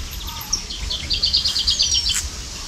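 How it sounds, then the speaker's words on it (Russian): A small bird sings a quick series of high, bright chirps and trills, somewhat distant, over low outdoor background rumble. "Какая-то птичка поет."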